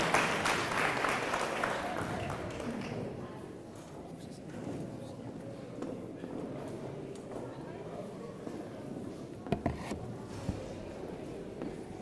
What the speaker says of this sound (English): Please give Coach Stevens a round of applause.